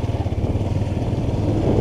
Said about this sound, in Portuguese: Vou parar a moto ali embaixo e dar um chego lá dentro.